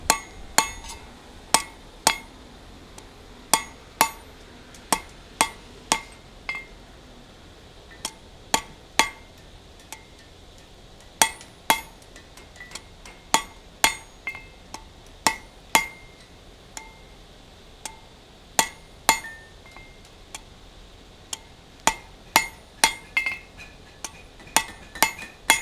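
A hammer rings sharply on a steel taper against an anvil, with regular, bright, metallic strikes repeating throughout at a measured pace, fairly close and clear over a quiet background.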